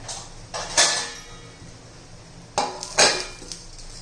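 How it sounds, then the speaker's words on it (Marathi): A lid set down on a cooking pan while a rava and raw onion breakfast dish steams; two pairs of light metallic clanks and scrapes, close and fairly soft, with quiet pauses between and no talking. "आता आपण झाकण ठेवून घेऊया"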